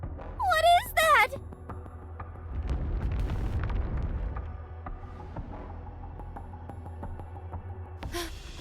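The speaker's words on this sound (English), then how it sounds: "It's an avalanche!" A deep avalanche rumble in the NIKKE: Goddess of Victory anime-style game swells into a heavy, broad roar and then trails off into a lingering low drone, preceded by a short high shriek and ending with a brief cry.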